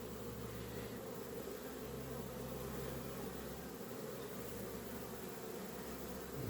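Honeybees at an apiary make a continuous, faint buzzing drone with a low steady hum underneath, unbroken and without speech.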